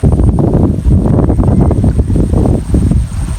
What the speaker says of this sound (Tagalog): Saka mahangin dito ngayon.